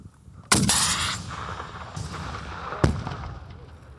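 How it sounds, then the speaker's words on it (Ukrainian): An RPG grenade launcher fires outdoors: a sharp, loud blast bursts out, followed by a long rushing roar that fades, then a second sharp crack a couple of seconds later. "снарядом доверху стріляйте РПГ вперед. Постріл!"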